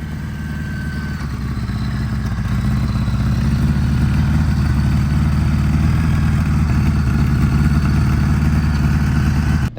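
Honda GL1000 motorcycle idling fast at nearly 2100 RPM with carburetors out of sync: a steady, close, loud engine hum with fine rhythmic clatter, running evenly throughout before cutting off abruptly at the end.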